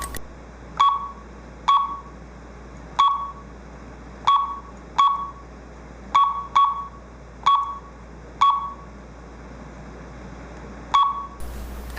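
The keypad of a Skylink SC1000 security system dialer gives short, clear electronic beeps during programming, about ten single presses at irregular intervals against a quiet hum.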